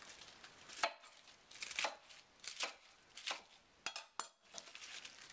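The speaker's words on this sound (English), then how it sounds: "And then we'll cut this into 2-inch pieces." A knife chops cabbage into 2-inch pieces for mak kimchi, giving a run of separate crisp cutting strokes, about one per second, fairly quiet and close.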